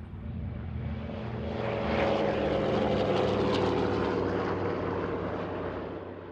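Miss Montana, a vintage twin-engine propeller airplane with rebuilt engines, drones past in flight, its engine tone swelling toward the middle and fading slightly, a steady throbbing roar with no voices.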